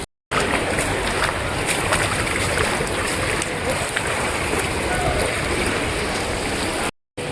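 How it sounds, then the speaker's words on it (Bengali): Rain falls in Dubai as a dense, steady wash of close, loud hiss that continues unbroken for several seconds before a short pause at the end. "দেখো বন্ধুরা, বৃষ্টি হচ্ছে,"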